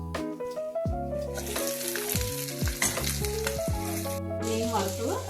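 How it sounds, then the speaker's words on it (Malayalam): Pieces of snakehead fish fry in a pan in a Kerala home kitchen, a steady sizzle running throughout beneath a louder melodic background music track, with no voices. "മീൻ വറുത്തത് റെഡി ആയിട്ടുണ്ട്."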